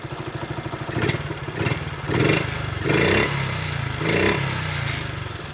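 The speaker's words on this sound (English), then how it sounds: "Let me give it a rev again." A 1973 Honda 50cc Mini Trail mini bike engine puttering at idle, then revved in several short, rising bursts that drop back between each blip, close and fairly loud.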